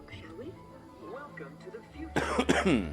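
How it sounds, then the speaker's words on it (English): A single harsh cough bursts out near the mic after a stretch of quiet low murmuring aboard the Spaceship Earth ride, loud and rough for about a second. "I don't know where this little cough, this tickle came from."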